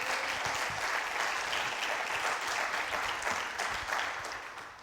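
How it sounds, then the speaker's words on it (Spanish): A church congregation claps together in sustained applause, a broad, even wash of many hands at moderate distance that fades slightly at the end. "Vamos a dar una ofrenda de palmas."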